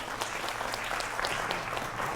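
A studio audience at a Hindi political debate show claps in a steady, dense burst of applause, fairly loud and close, lasting a couple of seconds with no talk over it.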